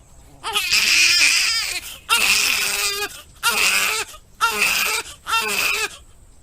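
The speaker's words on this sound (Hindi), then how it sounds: "फिर कुछ ही देर में कमरे से एक बच्चे के रोने की आवाज आती है।" A newborn baby cries loudly and close by in five long wailing bursts separated by short breaths, with no talk over it.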